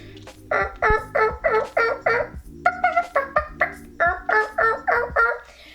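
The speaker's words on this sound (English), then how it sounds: "the gobbles just keep on getting fader and fader, like they're moving away" Wild turkeys gobble in a rapid series of loud, rattling calls, bursts overlapping in quick succession and fairly close, filling the whole stretch without talk.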